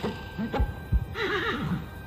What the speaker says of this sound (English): Freaking horse.